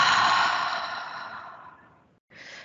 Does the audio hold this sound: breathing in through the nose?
yes